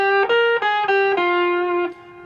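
An electric guitar played through overdrive distortion, a few sustained notes picked one after another, loud and close, ringing out at the end.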